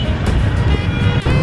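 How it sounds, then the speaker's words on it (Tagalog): Road traffic with cars, a loud continuous close rumble of engines and tires, steady and dense throughout. "Start ng traffic."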